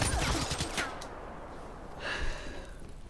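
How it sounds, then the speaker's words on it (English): A few loud shotgun blasts in a video game shootout, a burst at the start and another near the end, with the reports fading between them and no talking. "Goddamn shotguns!"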